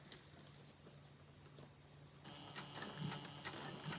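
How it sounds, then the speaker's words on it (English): A sewing machine double-stitches a vinyl crossbody bag where hardware is attached, starting as a faint, rapid mechanical patter with light ticking after a quiet stretch of room noise. "I am going to double stitch at this part just because that's the where the hardware is attached"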